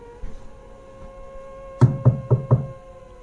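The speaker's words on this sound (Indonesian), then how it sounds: "terdengar suara ketukan dari pintu depan" Four firm knocks on a front door in a home, evenly spaced in quick succession and fairly close, following a quiet stretch with only a low background hum.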